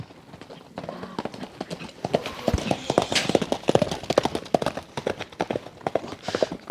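A fast horse galloping along a road, its hooves beating a quick, sharp clip-clop rhythm that starts softly and grows louder and denser as it comes closer.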